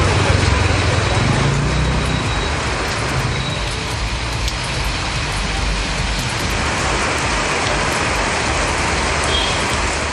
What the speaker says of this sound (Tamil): புதுக்கோட்டை மாநகராட்சி பகுதிகளில் அரை மணி நேரத்துக்கும் மேலாக இடி மின்னலுடன் கனமழை பெய்தது